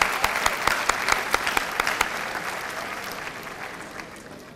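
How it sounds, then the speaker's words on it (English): Audience applauding at a high school senior awards ceremony, loud sustained clapping from a crowd with a few sharp close claps early on, slowly fading toward the end. "Another round of applause."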